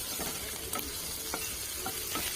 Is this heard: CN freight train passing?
no